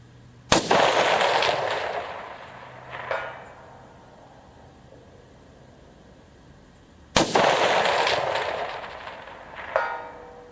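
Two loud rifle shots from a Grendel at a long-distance outdoor range in Indiana, several seconds apart, each a sharp crack trailing into a long rolling echo that ends with a faint distant report.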